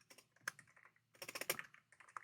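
Typing on a computer keyboard while writing plain text in a code editor: two quick bursts of clustered key clicks, close and fairly quiet, with a short pause between them and no talking.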